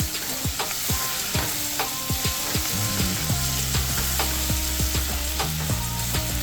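Chopped onion sizzles and fries in a pan for a chicken soup and rice dish, with repeated scraping and stirring strokes of a utensil close by and a steady crackle underneath, no voices.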